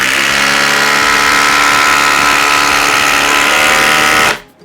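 A Flex stacked-lithium cordless impact driver on a 2.5 amp-hour battery sinks a 5 inch by 3/8 inch power lag screw. It gives one loud, continuous hammering whine that runs without a break and then stops abruptly.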